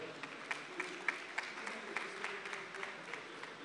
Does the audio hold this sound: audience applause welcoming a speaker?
yes